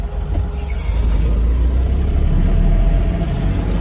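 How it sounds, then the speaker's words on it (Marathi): An Ashok Leyland Dost small truck rumbles along a rough highway near a checkpoint, with a steady loud low engine and road drone and rattling jolts throughout, plus a brief higher whine near the start. "लय आपटते राव गाडी ही."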